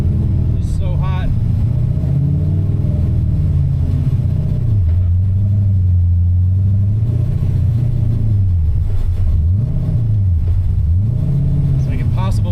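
Engine of a Mazda RX7 with a swapped-in LS V8, held under load during a 25% tuning sweep run, a loud steady low drone that rises and dips in pitch as revs change, with a person talking over it.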